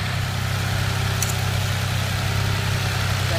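A 2007 Ford Fusion with a 3.3 liter V6 runs steadily on a test stand, a constant low engine drone with no change in pace and no talking.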